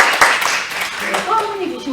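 An audience at a local council forum on education in Dangjin claps to welcome a speaker, a brief burst of close, dense hand clapping with voices mixed in.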